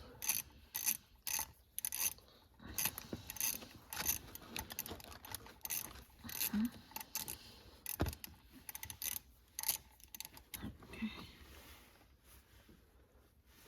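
Ratchet wrench tightening bolts on a Mercedes-Benz camshaft adjuster, with rapid bursts of clicking in uneven runs throughout, close and fairly crisp, with no talk.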